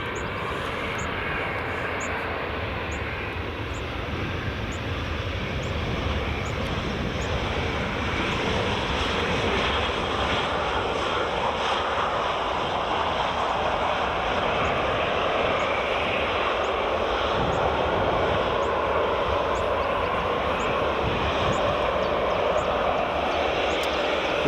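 An EasyJet airliner at Edinburgh Airport roars steadily and loudly for a sustained stretch, a broad jet engine rumble with wind-like wash and no talking.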